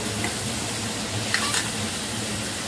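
Dal frying in oil in a pan while being stirred, a soft continuous sizzle with light scraping of a spoon, fairly quiet throughout.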